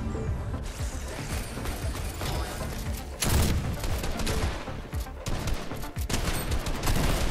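Continuous rapid gunfire and mechanical clatter from a Fortnite match fill the mix, loud and steady with a sharp burst midway, with no speech.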